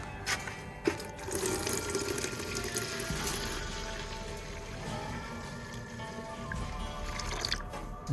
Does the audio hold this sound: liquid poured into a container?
yes